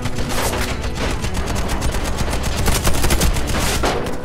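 Rapid bursts of gunfire from a tank battle in the video game Warface crackle loudly and continuously, a dense fusillade of sharp shots packed close together.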